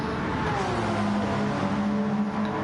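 Race cars competing at Bathurst, engines droning steadily at high revs from a distance, with a rising whine as one car drags alongside another, no talk over it.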